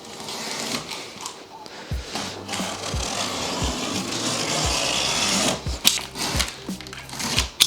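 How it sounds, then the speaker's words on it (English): The cardboard shipping box of an Ausom L2 dual-motor e-scooter is opened up, with steady scraping and rubbing of coated cardboard punctuated by several sharp knocks and tears, close by and without speech. "Let's get this opened up."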